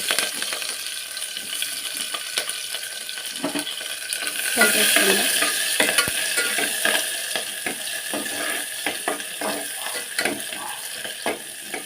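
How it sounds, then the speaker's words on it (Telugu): Onions and green chillies sizzle steadily in a pot, with occasional clinks and scrapes of stirring running through the continuous frying hiss. "ఉల్లిపాయలు వేద్దాం ఉల్లిపాయ పచ్చిమిర్చి ఒక రెండు పచ్చిమిరకాయలు ఒక ఉల్లిపాయ"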